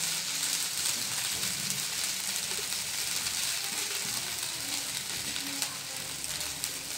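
Tomato dosa batter with onion sizzles on a hot pan, a steady, dense hiss of frying that holds even and fairly loud throughout, with no voices.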